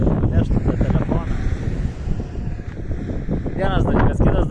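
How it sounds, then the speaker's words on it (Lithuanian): Strong wind buffets the microphone in gusty low rumbles on a roadside stop in Kenya, while someone talks steadily over the blustering noise. "Nefilmuoju važiuodamas, nes vėjas labai stiprus ir neštų tą telefoną."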